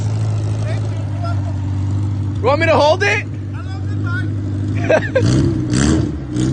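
A loud, heavily modified car with weight reduction idles and revs as it turns around, a deep steady engine drone under short bursts of nearby talk.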